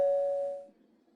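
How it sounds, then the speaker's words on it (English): A porch doorbell gives a single bright electronic chime that rings out clearly and fades within about half a second, leaving a quiet room with no talking. "The doorbell just rang."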